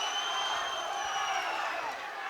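A crowd at an MMA fight night in Birmingham roars and cheers in a steady, loud wash of voices, with a few whistles sounding through the noise.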